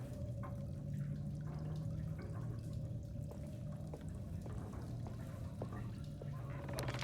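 Scattered water drips plink irregularly over a low, continuous hum in the video game Alone in the Dark (2024), each drop faint and distant.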